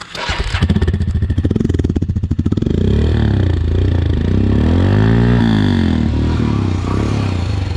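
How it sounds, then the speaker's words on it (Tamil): A Royal Enfield Himalayan motorcycle exhaust note: the engine fires up with a clattery start, then settles into a loud, close thumping single-cylinder burble with a few throttle blips and revs. "இதோட எக்ஸாஸ்ட் நோட்டு"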